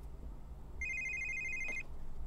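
A phone rings in The Sims 3, one short electronic trill lasting about a second amid a quiet, low background hum.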